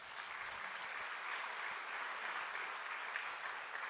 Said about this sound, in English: but you can clap for that.